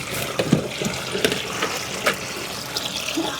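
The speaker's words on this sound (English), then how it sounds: "we'll let it start draining" Water draining from a washing machine in an off-grid cabin: a steady gurgling rush of liquid with small splashes and drips, close and moderately loud.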